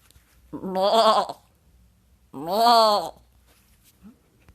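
A goat bleats twice, two loud, wavering calls about a second long each separated by a short pause, clear and close with no talk around them.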